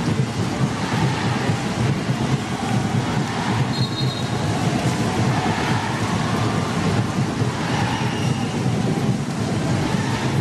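Steady rain falls on an open football pitch during an international match, a dense, continuous hiss with a low roar of wind or distant crowd underneath and no clear talk.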